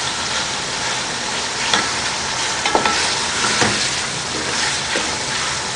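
Salted meat pieces for nihari sizzling and crackling in a hot pan, a steady frying hiss with a few scraping stirs as pieces are turned.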